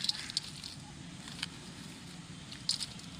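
Onions and green chilies fry in soybean oil for a fish curry, giving a low, steady sizzle with occasional light crackles and pops, fairly quiet throughout.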